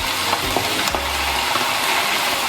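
Mushrooms frying in extra virgin olive oil give a steady, close sizzle with a few soft clicks and stirring scrapes, continuous throughout with no talking.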